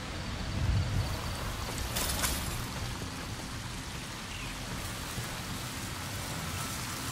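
Rain falls in the Wolverine video game as a steady, dense hiss with a brief heavier splash near the start, constant throughout and without voices.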